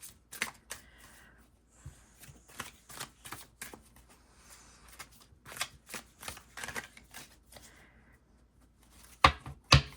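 A large tarot card deck is shuffled by hand in a quiet room, making a steady series of soft, close riffles and flicks of cards, with a sharper burst of shuffling near the end.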